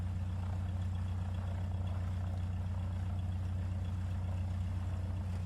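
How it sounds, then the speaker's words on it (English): A steady, low video-game Mooney light aircraft engine drone with a blown exhaust, a rough, throaty hum, constant and unbroken throughout. "My exhaust is blown, yeah. It's the good old Mooney growl."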